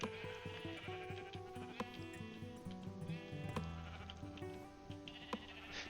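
Several Minecraft sheep bleat in repeated wavering calls, some overlapping, over a steady tonal game soundtrack, with no talking.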